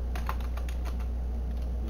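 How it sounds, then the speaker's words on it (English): Quick clicks from a computer keyboard as a code is typed, a short, close burst of a handful of keystrokes over a low steady hum. "let's type it out actually"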